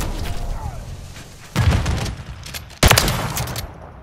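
Shotgun fire in Call of Duty: Modern Warfare 3, two loud close blasts with sharp attacks over steady game noise, with a voice speaking in the background.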